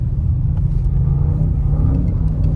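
Audi RS6 C8 engine rumbling steadily while the car drives on snow, a loud, continuous low drone close by with no speech over it.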